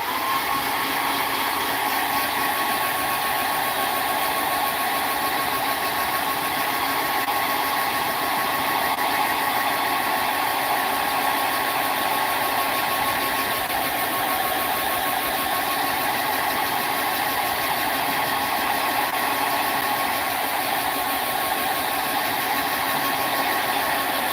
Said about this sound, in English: Now hit that with the hairdryer.